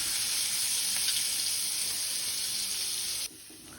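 Spices, fine red chilies, garlic and shallots sizzle in a frying pan as a loud, steady, close hiss that cuts off abruptly near the end.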